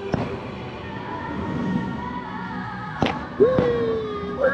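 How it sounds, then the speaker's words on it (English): Fireworks exploding over Magic Kingdom at Disney World, heard from high up on a spinning ride, with several sharp bangs against a steady background hum and a rising whistle near the end. "there's fireworks everywhere"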